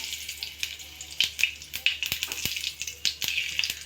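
Cumin seeds crackle in hot oil, a brisk hiss dotted with sharp pops and spattering ticks that grow busier over a few seconds, close and fairly quiet.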